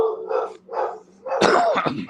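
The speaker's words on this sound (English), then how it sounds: "Apologize for the dogs." Dogs bark indoors, close and loud, with a few spaced woofs followed by a louder, overlapping burst of barking and growling.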